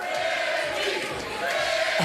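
A crowd at a professional bowling playoff chants a player's name in rhythmic, surging shouts that carry through the arena, with a rowdy, somewhat distant quality.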